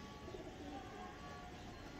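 Soft, low pigeon cooing hums beneath a steady background murmur, faint and continuous.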